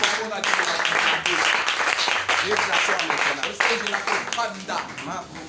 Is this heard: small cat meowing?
no